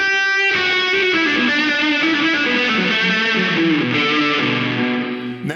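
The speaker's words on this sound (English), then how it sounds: "And we can add some of the reverb to it." Overdriven guitar through the Safari Pedals Dirty Dog drive with reverb blended in: a loud, continuous distorted melodic line with a washy, lingering tail, played alone without speech.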